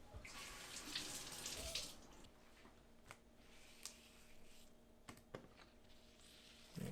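Water runs from a tap into a sink to wet water-activated packing tape, a steady close splashing stream for about two seconds that then settles into a quieter trickle with a few faint clicks and taps.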